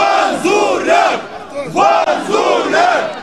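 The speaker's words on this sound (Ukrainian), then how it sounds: "Відтак почали вигукувати ім'я одного з кандидатів." Crowd of young men at a rally chants a candidate's name in loud, rhythmic shouted bursts, close by, with a short pause midway before the chant resumes.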